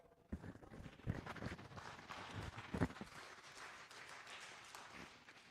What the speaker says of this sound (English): That wasn't a very big clap for the sheriff.